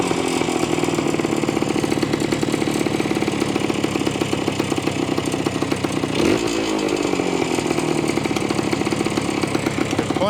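A 1973 ATMX motorcycle engine runs steadily and loud after a kick start, a dense rough two-stroke buzz throughout, with a brief shift in tone partway through as the revs change.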